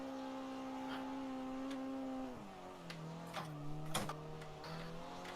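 Rotary-engined race car in the Assetto Corsa sim, a steady high buzzing engine note that drops in pitch as revs fall, then holds lower with a few sharp clicks and bumps.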